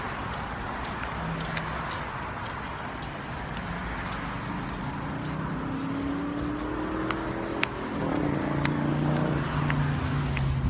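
Cars drive past on a street in San Diego at night, heard from the sidewalk: a steady broad traffic rumble with engine tones rising and falling as vehicles pass, growing somewhat louder toward the end, with no talk.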